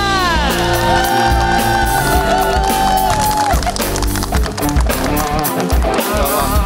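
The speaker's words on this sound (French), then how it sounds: "un tonnerre d'applaudissements pour Roshi Bada" A studio audience on a French-language TV talk show greets a guest with loud, continuous cheering, whoops and shouts over clapping, a dense crowd roar that fills the whole stretch.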